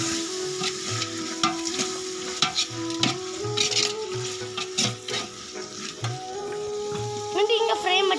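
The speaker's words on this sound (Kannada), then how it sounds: "ಫ್ರೈ ಮಾಡಂಗಿದ್ರೆ ಹಿಂಗೆ ಮಾಡಬೇಕು." Chicken biryani masala fries and sizzles in a pot over a village-style wood-fired stove, stirred with scraping clatter, while music plays throughout and a voice talks faintly in the background.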